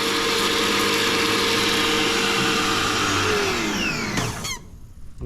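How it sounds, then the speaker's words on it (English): A power drill drilling a hole makes a loud, steady motorized whir that runs continuously for several seconds, then winds down and cuts off near the end. "I need to drill a hole in that."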